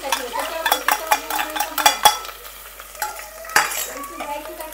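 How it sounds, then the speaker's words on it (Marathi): Fried onion paste being stirred into curry masala for fish curry, with repeated sharp scrapes and clinks of a spoon against the pan over a soft sizzle. "कांदा भाजून याला मिक्सर मधून काढला होता ते टाकायचं।"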